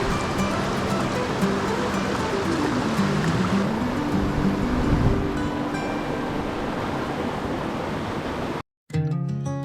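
A gold prospecting bucket is rinsed out in water outdoors in Idaho, producing continuous rushing and sloshing with a windy edge. It cuts off abruptly and music begins.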